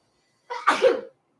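A single loud, close sneeze bursts out alone and ends abruptly, with quiet before and after it.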